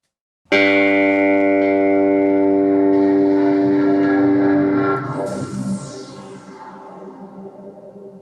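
A sustained Waldorf Iridium synth chord with stacked harmonics and bass boost off holds steady, then fades into a softer, thinner decaying tail after a few seconds.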